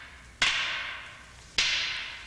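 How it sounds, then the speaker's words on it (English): Two sharp wooden cracks of arnis fighting sticks striking each other during double-stick escrima training, spaced about a second apart, each ringing briefly before fading, close and clear with no talk. "Now both sticks are hitting"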